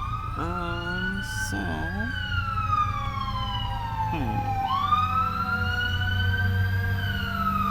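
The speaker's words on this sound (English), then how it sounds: "There's a fire engine coming by" A fire engine siren wails as it passes, rising and falling in long sweeping tones over steady traffic rumble, with voices talking underneath.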